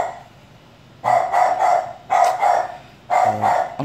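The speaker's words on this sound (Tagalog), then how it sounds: "Maingay yung aso." A dog barks loudly in the early morning in three bursts of two or three barks each, close by, with a quiet pause before the first.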